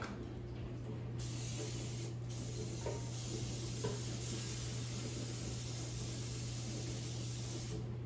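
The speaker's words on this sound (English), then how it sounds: "I will spread the bottom with a non-stick cooking spray" A steady aerosol spray of non-stick cooking spray hisses continuously close by onto an air fryer basket for several seconds, with a low constant hum underneath and brief pauses in the spray.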